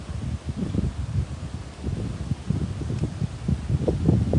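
Strong wind at Bang Saen beach buffets the microphone in low gusty rumbles and flutters, steady and close for the whole stretch with no voices.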